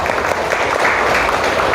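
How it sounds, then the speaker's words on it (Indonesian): A class of students claps together at the end of a lesson, a dense, loud burst of applause filling the room without pause for the brief moment it lasts. "Tepuk tangan untuk kita semua hari ini."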